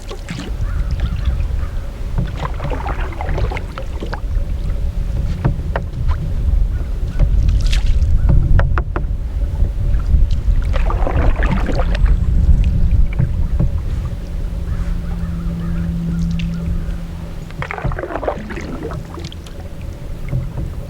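A canoe being paddled on Lake St. Clair, with soft water swishes and paddle strokes recurring every few seconds against a constant wind rumble outdoors.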